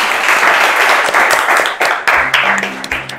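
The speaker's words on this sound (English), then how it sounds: "It's at this point I expect you to clap." Students clapping in a high school classroom, a loud burst of applause that runs continuously, then thins into scattered claps near the end.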